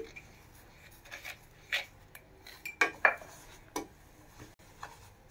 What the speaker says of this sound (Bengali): চিনি আর সুজি একসাথেই ভাজতেছি